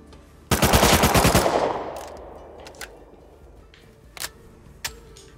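Rapid automatic gunfire from the video game Rust Console Edition: a loud close burst of about a dozen shots, then a decaying tail and a few faint distant single shots.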